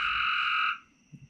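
A frog lets out one loud, sustained buzzing croak close by that cuts off abruptly, followed by faint low background noise.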